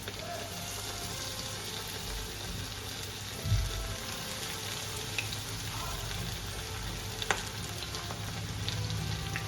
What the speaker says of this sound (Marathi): आता कढईत तेल गरम झालेलं आहे। आता आपण तळून घेऊया.